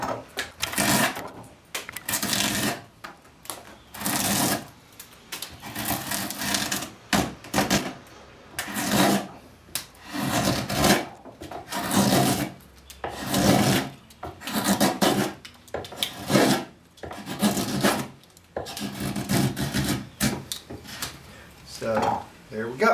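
Rhythmic scraping strokes of a scorp carving the sweep of a wooden chair seat, repeated rasping cuts in steady succession, close up, with someone talking intermittently between strokes.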